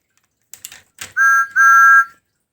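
A TOMY Steam Along Thomas toy train whistle gives two steady, shrill toots, the second longer, after a few light mechanical clicks.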